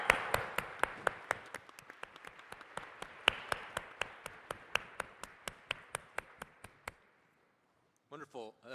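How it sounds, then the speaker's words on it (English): Applause for the panelists at a plenary panel on global warming and health, made of sharp, evenly spaced claps that slow and fade out, followed by a brief burst of talk at the end. "can we give a big round of applause to all the panelists"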